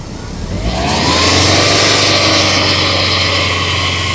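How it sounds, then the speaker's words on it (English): A steady, loud car engine drone swells up after a brief quieter start and holds a constant pitch as the engine is revved and sustained, with high beams and blower on during a battery test. "Rev the engine."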